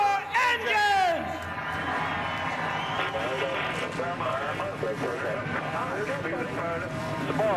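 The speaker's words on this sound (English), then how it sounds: "Drivers, start your engines!" Race car engines start up at a speedway for the 2010 New England 200. A voice rings out briefly at first, then a continuous loud mechanical roar fills the air with crowd noise.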